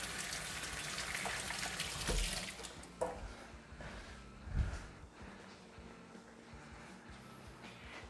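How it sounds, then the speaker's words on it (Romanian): Hands washed under running tap water after handling steak in a kitchen, a steady close gush of water with splashy bumps as the hands move through the stream, fading lower toward the end. "Ne spălăm pe mâini."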